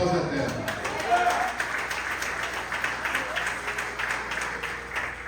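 A church congregation at a family worship service applauds with steady, continuous clapping, while a voice keeps talking over it throughout.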